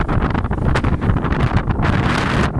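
Strong wind buffets the microphone on a hilltop hike, roaring and gusting loudly and continuously with rough, blustery surges.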